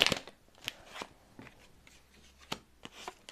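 Oracle cards are drawn and shuffled by hand in a few scattered, crisp flicks and slaps, close and quiet, with a soft rustle between them and no talk.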